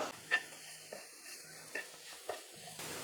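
Grated potato and tapioca being stirred into masala in a pan for cutlets, with a soft sizzle under several light scraping strokes at an irregular rhythm, close and fairly quiet.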